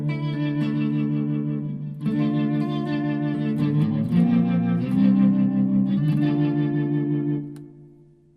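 Electric guitar played through a Fender Mustang amp with its Black Hole Vibe effect, a swirling, modulated, distorted tone with chord changes every couple of seconds. It is sustained and fairly loud, with no talk, and fades at the end.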